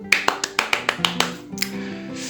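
Several people clap briefly in a small interview setting with a writer, giving a quick series of sharp, close claps that falls into a looser patter, with faint voices beneath.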